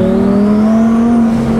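A twin-turbo Lamborghini Performante Spider with over 1000 horsepower accelerates hard, its engine note loud and close, the pitch climbing steadily as it pulls without any talk over it.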